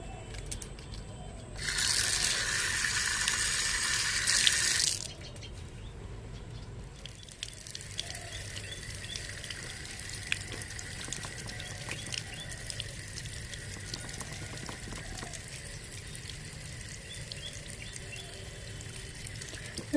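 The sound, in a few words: tap water washing fish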